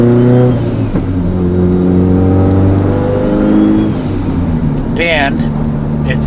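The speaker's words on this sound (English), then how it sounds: "This turbo spool on this car is like none other." A Mitsubishi Evo 8 with a large turbocharger runs loud and close on a dyno, its engine tone rising through a rev, with a brief whistling turbo surge near the end.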